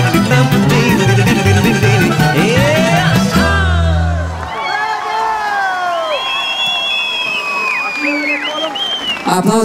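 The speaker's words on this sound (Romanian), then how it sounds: "aplauze pentru orchestra Lăutarii" At a folk concert, a loud crowd breaks into applause, cheers and whistles for the Lautarii orchestra as the music ends, building into a sustained roar of clapping and whoops.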